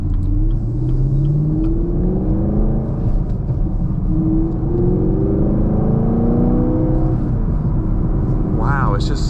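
A 2024 Chevrolet Camaro SS Collector's Edition with manual transmission rumbles steadily and revs as it drives along, with low mechanical drone throughout and a brief higher whine near the end.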